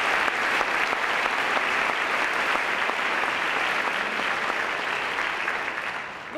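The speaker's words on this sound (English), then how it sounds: "If you could give Mr. Newcomb a round of applause for his years of service." A sustained round of applause from the audience at a high school senior awards ceremony for Mr. Newcomb, dense and even clapping that tapers slightly at the end.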